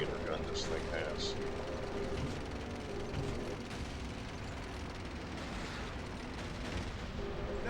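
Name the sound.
tank's 75mm gun firing, from video game Call of Duty: Final Fronts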